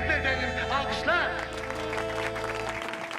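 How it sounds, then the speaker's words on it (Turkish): An audience claps at a wedding ceremony, a steady wash of applause that carries under music and a singing or announcing voice for about three seconds. "alkışlar tabii ki bitmeyecek"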